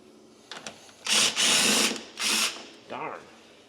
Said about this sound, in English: How many stupid screws do I got to take out?